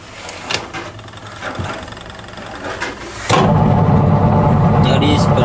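A Samsung washing machine drum starts spinning during a function test, a soft hum and rattle that jumps abruptly into a loud, steady whirring roar partway through.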